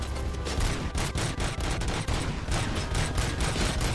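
A turret in the video game RoboCop: Rogue City fires rapid, sustained bursts of gunfire, loud and close, with dense repeated shots and no talk.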